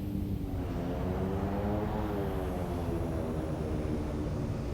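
Metroliner turboprop aircraft rolling out after landing on the runway with thrust reversers engaged, a steady loud engine roar with whining tones heard from inside, continuous throughout.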